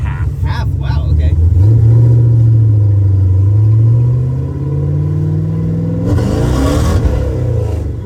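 A 700-horsepower tow truck with a supercharged LS engine and Hellcat supercharger revs loudly and close, its roar climbing, holding, then easing off before rising again, with a voice joining over it.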